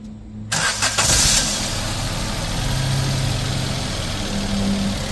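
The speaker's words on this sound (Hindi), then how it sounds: "गाड़ी स्टार्ट होने को तैयार" A Maruti Suzuki S-Presso with a P0420 fault and weak pickup starts up close by, with a brief crank that catches into a steady, rumbling idle for the rest of the clip.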